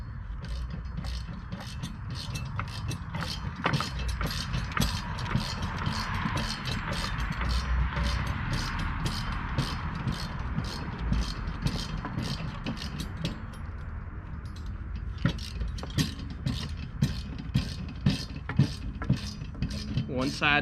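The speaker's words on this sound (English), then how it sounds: "I'm going to use that on one side and the wrench on the other." Steel nuts being tightened onto a wheel axle with a wrench while assembling a Hoss double wheel hoe, giving a steady run of close metallic clicks and ratcheting taps with light clatter throughout.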